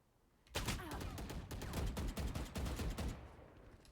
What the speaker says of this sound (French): J'ai peur de venir là, ça tire trop là.